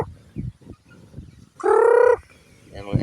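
A loud, harmonic call from nearby chickens, a drawn-out squawk heard over faint background noise.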